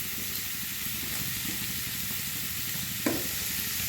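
Crab bhuna frying over a high gas flame, a constant gentle sizzle with occasional stirring clinks and scrapes, close by and quiet with no speech.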